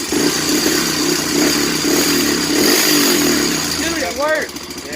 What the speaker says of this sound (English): it actually revs up now